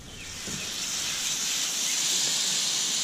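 Wild boar mini smash burger sizzling on a Camp Chef FTG600 griddle, a steady loud hiss of frying fat that builds slightly and holds, close up with no talk.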